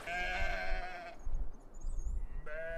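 Sheep bleat in an open field, several wavering calls rising over a steady background rumble, with a pause in the middle before another bleat comes in.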